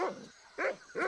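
A dog in the video game Monkey Island 2 gives two or three short, clear barks in quick succession, close and fairly loud, with no talking over them.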